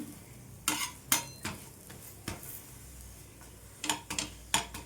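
Carrot paratha frying in a pan and being pressed and turned, giving a low sizzle under a series of sharp scraping and tapping strokes at an irregular pace, close and fairly quiet.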